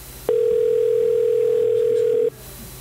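A telephone signal tone on a call that goes unanswered: one steady, loud continuous tone lasting about two seconds, starting and stopping abruptly over faint background noise.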